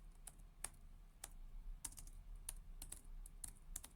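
Faint, quick tapping on a computer keyboard, a steady scatter of light key clicks over a low background hum, recorded at low level.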